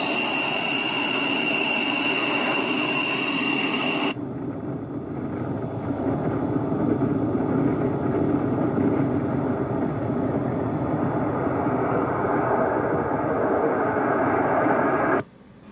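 A B-2 bomber taking off, heard as a steady, loud, broadband jet roar that follows a few seconds of high whining tones and runs unbroken until a sudden cutoff near the end.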